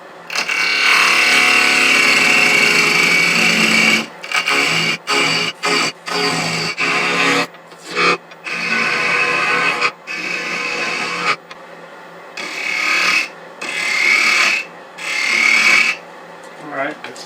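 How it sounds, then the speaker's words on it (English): A skew chisel takes planing cuts on a spinning wood lathe while turning a gnome ornament, producing loud bursts of hissing, shaving scrape that start and stop repeatedly, with someone talking between cuts. "I'm just going to use the skew to take some planing cuts to round this off."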